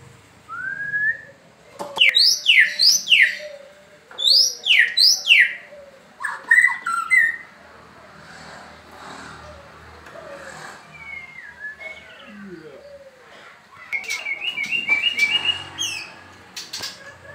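Clear, sharp whistled phrases from a cililin songbird recording, played among other captive songbirds, ring out in repeated bursts of rising and falling notes with pauses between, close and loud against a quiet background.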